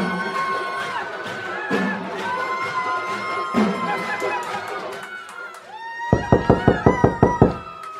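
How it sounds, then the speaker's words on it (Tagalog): A rapid run of about eight sharp knocks on a door rings out near and loud, following a stretch of crowd chatter, laughter and singing from a village celebration outside, with voices talking throughout. "Kumakatok si Clara sa pinto."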